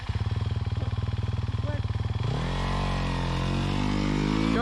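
A dirt bike engine on a ride at Bawley Point first chugs in a fast, even pulse close by, then climbs into a steady, rising rev.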